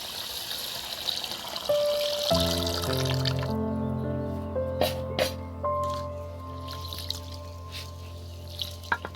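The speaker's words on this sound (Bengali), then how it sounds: "এই যে চালটাকে প্রথমে আমি জল দিয়ে" Tulsi bhog rice grains are washed in water for basanti pulao, with soft squishing and sloshing as hands work the grains, over a steady background hum and a few sharper splashes.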